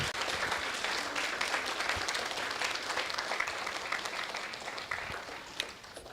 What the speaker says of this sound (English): give them a round of applause for